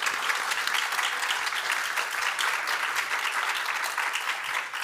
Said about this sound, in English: Can I have a huge round of applause,